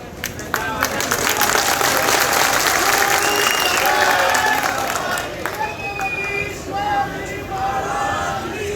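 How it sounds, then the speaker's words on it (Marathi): An audience at a political speech in Maharashtra breaks into sustained applause, a dense wash of clapping from a large crowd lasting several seconds, with voices mixed in beneath. "टाळ्या वाजल्या गेल्या पाहिजे"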